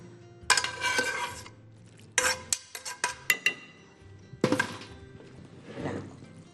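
A frying pan is rinsed and handled in a kitchen sink: bursts of running water and clattering metal come in three clusters, with sharp clinks and knocks between them, close and fairly loud, with no talking.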